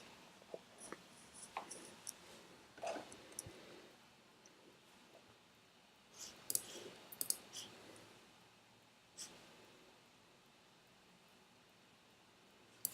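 Computer mouse clicks, sparse and faint, scattered irregularly through a quiet room with a soft background hiss, a few sharper clicks standing out near the middle.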